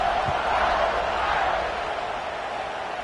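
Stadium crowd in an NCAA college football video game roars in a broad, steady wash of cheering that eases slightly toward the end.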